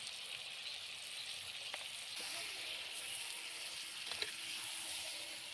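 Tomato, spices, ginger-garlic-onion paste and turmeric fry in a pan over a wood fire, giving a steady, soft, hissing sizzle with a few faint pops and crackles.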